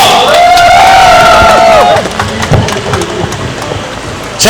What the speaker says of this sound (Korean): 우리 선생님들께 박수 부탁드리겠습니다.